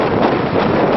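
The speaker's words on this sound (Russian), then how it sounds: "Сегодня очень ветрено, поэтому я не знаю, будет что-то слышно или нет." Strong wind on a Toronto street buffets the microphone in a continuous loud, rumbling roar that lasts the whole second.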